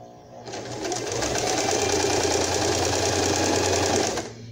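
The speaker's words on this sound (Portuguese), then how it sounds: "E vou fazer, e vou passar essa costura até o final." A sewing machine stitches a seam on Barbie doll clothes, a close, even, fast mechanical whir that starts up, holds steady for about four seconds and then stops.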